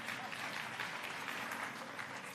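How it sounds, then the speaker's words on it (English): Guests at a Ramadan iftar gathering at Gracie Mansion give a faint, distant round of steady applause lasting a couple of seconds. "you can clap for Mohammed,"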